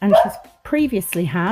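A pet dog barks in short bursts, partly masked, while someone talks steadily over it during an acrylic nail session at home.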